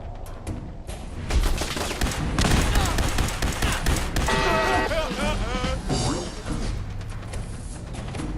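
Gauss rifle gunfire in Fallout 4, a dense volley of loud shots and booming impacts that runs for several seconds amid game effects and some talk.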